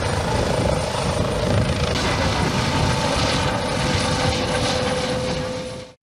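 A SMURD rescue helicopter flying over a beach at Mamaia, its rotor and turbine a loud, continuous whir with a high whine, holding steady before cutting off abruptly.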